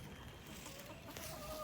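Soft, faint clucking of chickens in the background, low and brief.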